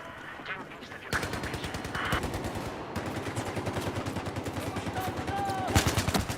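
Bursts of rapid automatic machine gun fire from a Battlefield 4 match, sharp rattling rounds interrupted by short gaps, with a final quick volley at the end and game ambience underneath.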